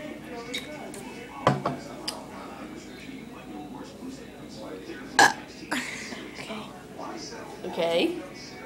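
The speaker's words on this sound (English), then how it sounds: "I burped 4 times." Someone belches during a burp contest, letting out several short burps spread across the moment amid soft background sounds.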